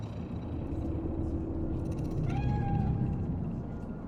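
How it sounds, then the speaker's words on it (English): A cat meows once, a short rising-then-falling cry in Cyberpunk 2077 Phantom Liberty, heard over a steady low city rumble. "Do you see it? That cat?"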